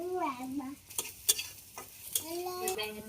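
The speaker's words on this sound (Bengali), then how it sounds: "এই যে শুকনো মরিচ আটকাইছি এর মধ্যে আবার দিয়ে দিচ্ছি।" Dried red chillies fry in oil in a wok with onion and garlic, a soft sizzle marked by sharp spatula scrapes and taps. A voice talks over the frying.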